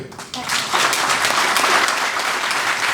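Audience at a Hindi book launch ceremony breaks into steady, loud applause, a dense wash of many hands clapping that builds quickly and holds for a few seconds.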